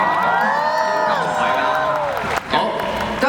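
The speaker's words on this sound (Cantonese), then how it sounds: "俾掌聲佢先啦" A live fan-meeting audience in a hall claps and cheers on cue, a loud sustained wash of applause and whoops mixed with music and an announcer's voice, dipping briefly before picking up again.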